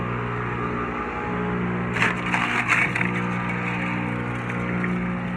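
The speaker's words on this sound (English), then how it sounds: "So now my wood chipper is turned into a carrot mulcher." A wood chipper shredding carrots, a steady loud mechanical drone with a burst of crunchy chopping and splintering for about a second in the middle before settling back to the running hum.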